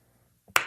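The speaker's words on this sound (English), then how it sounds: "I'm clapping for myself." A person claps for themselves, a single sharp clap following a faint softer tap in an otherwise quiet room.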